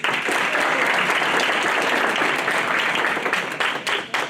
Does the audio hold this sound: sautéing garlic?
no